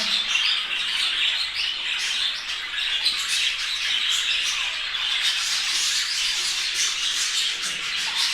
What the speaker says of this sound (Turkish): Gördüğünüz gibi arkadaşlar dört aylık kuşun haline bakın.